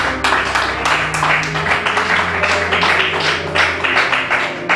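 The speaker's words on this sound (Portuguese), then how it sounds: "Dê uma forte salva de palmas para Jesus" Church congregation clapping for Jesus, a loud, dense and steady burst of many hands applauding nearby, continuing evenly without pause.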